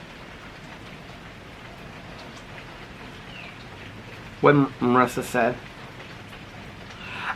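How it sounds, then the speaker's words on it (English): Heavy summer thunderstorm rain hisses as a steady, dense wash throughout, with a brief burst of nearby talk in the middle. "heavy thunderstorms, heavy rain"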